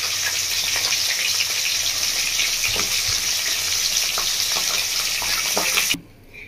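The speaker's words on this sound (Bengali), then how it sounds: "মাছের মুড়ো দুটোকে ভালো করে লাল লাল করে ভেজে নেব।" Steady, loud sizzling of rohu fish heads frying in hot oil, a continuous crackling hiss with faint clinks, cutting off abruptly near the end.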